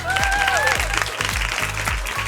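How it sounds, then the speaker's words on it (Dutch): Audience applause in a live Frisian radio show studio after a beauty pageant contestant appears, a steady burst of clapping over rhythmic background music for a couple of seconds. "Applaus voor jezelf."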